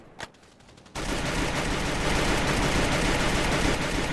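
Sustained automatic gunfire in a GTA 5 and Free Fire style shooter game, a brief click and pop then a dense, continuous loud burst of rapid shots running to the end.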